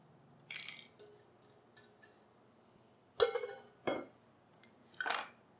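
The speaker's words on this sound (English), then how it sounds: "Get in there with a fork or a knife or what I have here. Just mix it up nicely." Fork stirring a Moroccan carrot and raisin salad with dressing in a bowl, giving a series of short scraping clinks and rattles against the dish, close and fairly quiet, with brief pauses between strokes.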